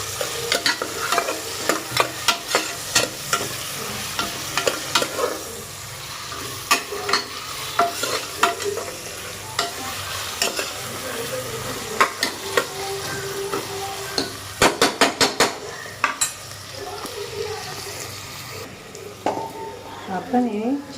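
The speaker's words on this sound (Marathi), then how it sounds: "आपण आता हे व्यवस्थित पद्धतीने हलवून घेत आहोत" Soybean pulav ingredients with chopped onions and potatoes being stirred in a sizzling pan, a spoon scraping and clinking in uneven strokes over a steady frying hiss, close by.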